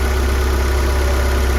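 A Fiat 500 with the 1.2 engine idles steadily during an oil service, a loud, even, low mechanical hum with a constant throb and no change in revs.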